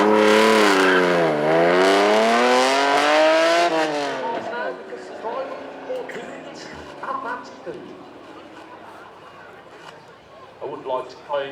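A supercar engine revs hard off the rev limiter on track at the Beaulieu Supercar Weekend, a loud close howl that climbs and falls in repeated sweeps before settling to a rougher, quieter drone with voices around it.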